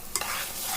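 A spoon scrapes and stirs through ridge gourd and dried prawn curry in a pan, a soft continuous sizzle with a brief clink near the start, close and steady.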